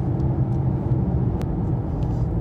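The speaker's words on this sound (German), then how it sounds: "Und jetzt kommt der Verbrenner wieder dazu." Combustion engine of a Mercedes E 300 de E-Class estate plug-in hybrid cutting in while driving, a low steady rumble and road noise heard from inside the car, no voices.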